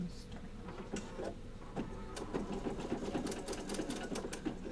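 A sewing machine stitches diagonally from corner to corner, its needle chattering in a fast, steady mechanical rhythm close by, with a few brief clicks and some faint background talk.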